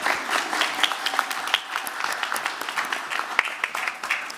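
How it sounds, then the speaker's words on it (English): Sustained audience clapping at a conference opening ceremony, a dense patter of many hands with sharp individual claps standing out, moderately loud and without talk. "Another hand of applause to our cultural team,"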